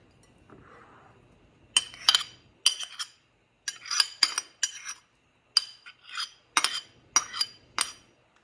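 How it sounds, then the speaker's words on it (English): A spoon scrapes the bottom of a press into a bowl while skillet chicken bulgogi is being made: a run of sharp metallic clinks and scrapes in uneven bursts, close and fairly loud, after a soft rustle. "I'm just going to scrape the bottom of that press and add this to our bowl"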